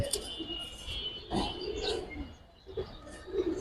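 A female wide-eyed pigeon from a coop of fancy pigeons gives soft, low coos in a few short bursts, with faint chirps and background noise around it and no voices.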